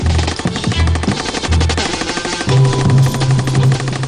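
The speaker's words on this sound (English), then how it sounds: "20 rounds of tracer from a machine gun" A machine gun fires tracer rounds in loud, rapid bursts, the rattling shots packed close together with brief pauses between volleys.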